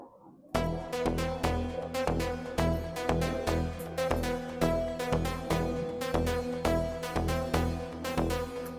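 The Butterfly synth in FL Studio, with reverb added, starts after a brief quiet moment and then pulses in a steady, loud, repeating rhythmic pattern of bright chordal stabs over deep bass in an Afro tech track.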